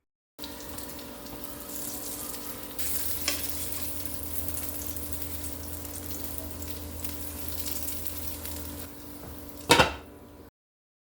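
Plant-based burger patties fry in oil, giving a steady, close sizzle that runs evenly for several seconds. A short clatter sounds near the end, and no one speaks.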